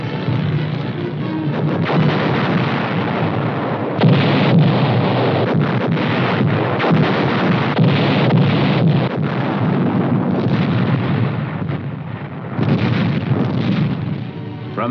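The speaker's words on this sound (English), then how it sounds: "a forward observer is directing a continual barrage to soften up the enemy's resistance" A continual artillery barrage pounds an attack objective, directed by a forward observer in a 1959 US Army setting: a dense, unbroken roar of blasts and rumbling booms that stays loud throughout the whole stretch.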